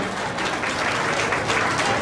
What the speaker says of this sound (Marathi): जोरदार टाळ्या वाजवून आपण त्यांचेही स्वागत करूया